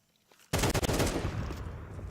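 Counter-Strike 2 match gunfire from Desert Eagles and an MP9, silence then a sudden loud burst of rapid overlapping shots that rings on and trails off, with no voices.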